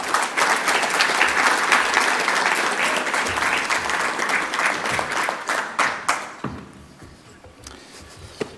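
Audience applause at a gaming expo presentation rises as a dense, loud wash of clapping, holds steady, then thins into scattered individual claps and fades out near the end.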